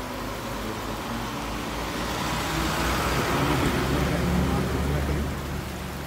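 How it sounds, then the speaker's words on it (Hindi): Road traffic near Central Karakoram National Park in Gilgit-Baltistan, Pakistan, a continuous wash of passing vehicle noise that swells briefly in the middle, with faint voices underneath. "यहाँ की यातायात हैं।"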